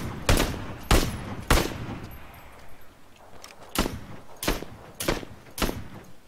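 Gunfire in PLAYERUNKNOWN'S BATTLEGROUNDS, a series of sharp, loud single shots in irregular rhythm, three close together, a pause, then four more, with no talk over them.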